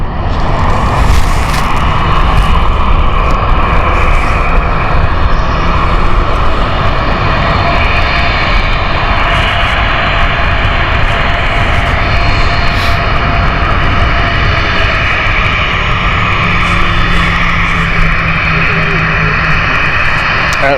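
Airliner engine roar of an aircraft arriving at Stansted Airport on a cold, sunny January day, loud and continuous for the whole stretch, with faint voices talking nearby.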